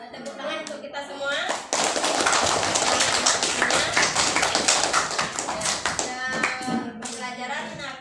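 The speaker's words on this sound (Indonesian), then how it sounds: "mari kita tepuk tangan untuk kita semua" A classroom group claps hands together, dense brisk applause starting abruptly and running for several seconds before thinning out, with voices chattering and calling over it.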